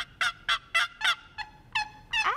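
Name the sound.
turkey call imitating hen turkey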